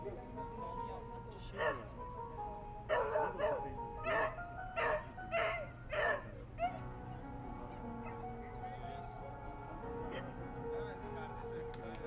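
Several dogs bark in a ragged burst of sharp yaps at an Istanbul dog show, then fall quiet, while a public-address announcer talks over the hall's steady background hum.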